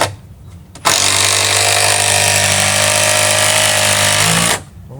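Power driver sinking large structural screws into doubled deck framing, one loud continuous whine lasting several seconds at close range, with a steady low drone that starts and stops abruptly.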